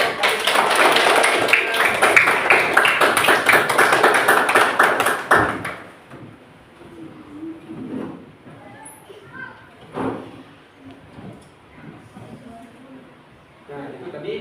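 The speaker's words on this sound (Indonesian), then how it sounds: "silakan tepuk tangannya dong" Classroom applause, dense and loud, fills the opening seconds of a mathematics lesson, then stops abruptly and gives way to quieter room noise with scattered taps and shuffling.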